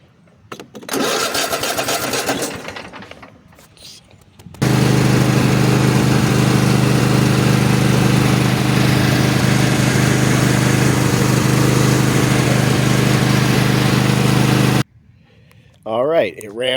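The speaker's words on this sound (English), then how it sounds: "run the mower for a minute or two to get the oil flowing through there so it'll drain easier" A Cub Cadet XT1 LT50 riding lawn mower engine runs steadily and loudly for about ten seconds, close by, after some rustling handling noise, then cuts off.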